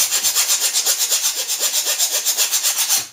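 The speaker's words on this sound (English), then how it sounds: "So after you rough it in with the coarse, then you can use the smooth file section to fine-tune it." Metal being filed with a 4-in-1 hand file that has coarse and smooth faces, during a forge modification: about sixteen quick, even rasping strokes in a steady rhythm, close and fairly loud, with no talking.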